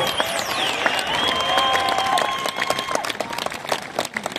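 At the Šlāgermaratons 2025 concert, a crowd claps to welcome host Normunds Šuša. The clapping is bright and continuous, with some tonal music or effects under it, and swells slightly before thinning out.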